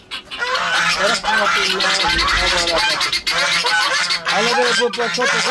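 Ducks and chickens on a cold winter farm honk, quack and cluck almost nonstop in a loud, overlapping chorus close by, while someone speaks briefly over them.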